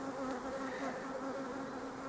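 Honey bees at an apiary hive during spring work hum in a continuous, even drone, close and steady with no pauses.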